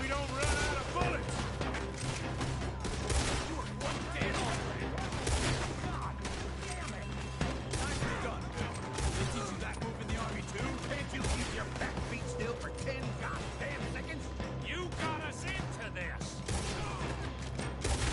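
Heavy gunfire in a Red Dead Redemption 2 shootout video game, dense repeated shots and bursts crackling continuously, mixed with in-game voices shouting over the battle.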